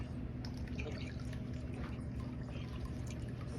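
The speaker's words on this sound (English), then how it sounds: "just pour it into this really slow" Goat milk soap mixture is poured slowly into a mold, a soft, continuous liquid trickle with faint drips over a low background rumble, no one speaking.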